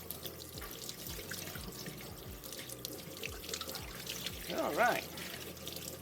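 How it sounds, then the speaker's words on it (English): Hands being washed under a running kitchen tap, a steady gush of water splashing into the sink with a brief louder surge near the end, and a short spoken remark. "Let me get my hands washed up"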